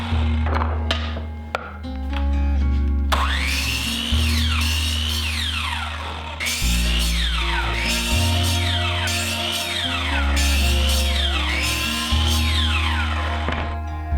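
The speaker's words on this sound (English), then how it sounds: "now I'm just chopping them all down to length." Maple, walnut and oak strips are cut to length with a power saw, several cuts in a row, each a loud whining rise and falling spin-down, over steady background music.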